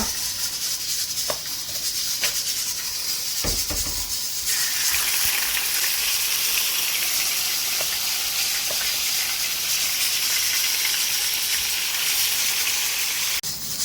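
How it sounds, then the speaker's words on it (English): Beef pieces frying in already-hot oil for red peas soup give off a steady, loud sizzle and hiss, with a few clunks from the pan and the sizzle swelling as more meat goes in. "Here I'm having some oil already hot, so I'm just going to put the beef over"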